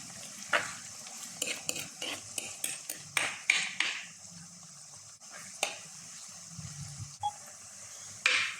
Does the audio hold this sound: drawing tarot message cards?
no